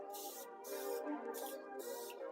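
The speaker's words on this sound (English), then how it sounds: "Spray with the Morphe Setting Mist." Morphe Setting Mist sprays in four short, hissing bursts at an even rhythm, close and fairly quiet, applied over finished makeup.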